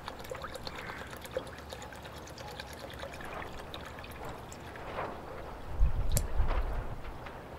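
Acid and hydrogen peroxide are poured into a container, giving a soft continuous trickling and splashing that swells louder near the end, with no talk.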